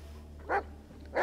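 Two short, sharp dog barks from the Blair Witch video game ring out about half a second apart over a low steady hum, moderately loud and close.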